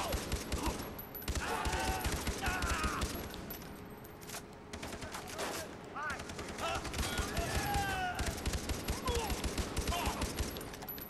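Gunfire in the video game Far Cry 3 rattles in rapid bursts with heavy recoil, dense and continuous across the whole stretch, with a voice talking over it at times.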